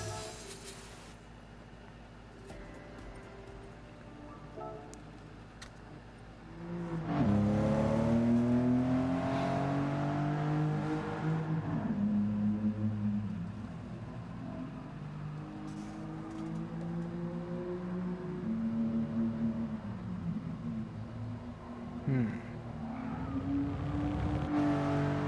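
Race car engine in a GT Sport replay, rising and falling through revs and gear changes, loud and close, with sustained high-pitched whine and shifts in pitch as the car accelerates and brakes, no talking.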